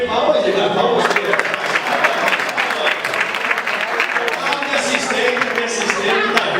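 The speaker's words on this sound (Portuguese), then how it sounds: "Palmas pra ele!" A studio audience on a Brazilian TV show claps loudly and continuously, with voices and cheering mixed into the steady applause throughout.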